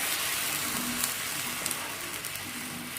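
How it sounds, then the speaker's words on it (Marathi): A pot of horse gram bubbles at a rolling boil, giving a steady close hiss and seethe with a few faint pops, no voices over it. "त्याला चांगली उकळी आली"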